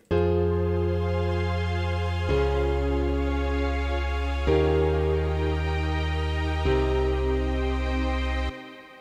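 A deep, sustained bass line programmed in FL Studio plays at a low tempo, moving slowly through four long held notes, each step ringing smoothly into the next with rich low harmonics and no talking.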